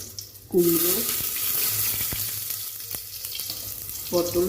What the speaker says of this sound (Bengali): তেলটা গরম হয়ে গেছে। এর মধ্যে মৌরি আর জিরা ফোড়ন দিয়ে দিলাম, তেজপাতা দুটো দিয়ে দিলাম।